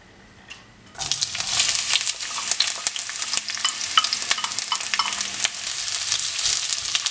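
Onion hitting hot oil in a pan, a sudden burst of loud sizzling after a brief quiet moment, then sustained crackling and spitting with light stirring, no speech.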